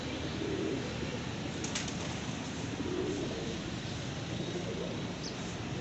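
Pigeons released to fly, wings flapping amid a dense, constant wash of outdoor noise, with a few faint chirps and coos and no one talking.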